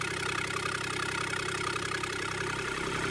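A Kubota D722 diesel engine idles steadily and low without change, a continuous mechanical drone with a faint rhythmic chug underneath.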